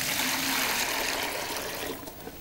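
Water pours steadily into a bucket for a homemade welding rig, a close, continuous splashing trickle that thins out toward the end, with no voices.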